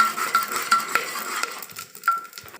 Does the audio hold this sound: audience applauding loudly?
no